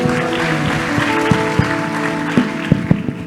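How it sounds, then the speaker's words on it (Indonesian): A church congregation at a youth revival service applauds. Scattered claps grow denser toward the end over sustained organ-like musical tones. "Satu tepuk tangan yang paling meriah bagi Tuhan"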